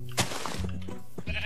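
A video game sheep bleats in short, wavering cries, fairly close and clear, with a brief sharp click near the start and no talking.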